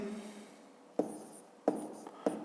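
A pen writes numbers on paper during a fifth-grade math exercise, a faint close scratching broken by three sharp taps and strokes spaced under a second apart, with no voices.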